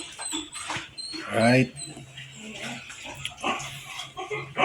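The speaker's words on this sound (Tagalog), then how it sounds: "Yung aking Pomeranian." Small Pomeranian dogs whimper and let out short, high, squeaky barks up close, mixed with a person talking briefly over them.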